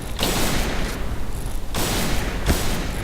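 Loud repeated gunfire in the video game Point Blank, bursts of shots in quick succession separated by short lulls, dense and close without speech.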